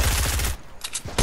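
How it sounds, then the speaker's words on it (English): Rapid gunfire rattles in a video game shooter, a fast burst of close shots followed by a few sharp single cracks within about a second. "You shot me."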